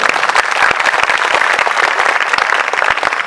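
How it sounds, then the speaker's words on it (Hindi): A crowd at a religious discourse claps to welcome Lord Krishna, loud and close, with individual hand claps standing out in a brisk, slightly irregular rhythm over a few seconds. "आप सभी लोग भगवान का स्वागत तो कर दे तालियां बजा करके।"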